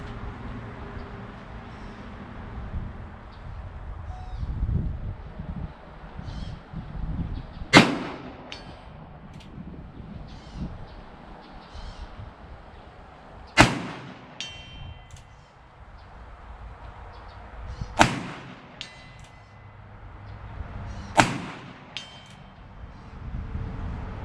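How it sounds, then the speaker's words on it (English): Four sharp revolver shots crack out at an outdoor shooting range, spaced several seconds apart over a low background rumble, loud and close to the listener. "Let's see if we can do a little bit better now that we know the gun is shooting low."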